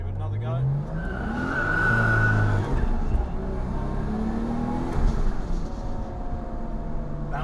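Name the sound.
Nissan R33 Skyline tires losing traction and skidding under hard acceleration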